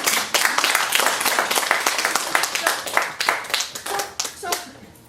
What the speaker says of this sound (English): Everybody give Monica a big round of applause.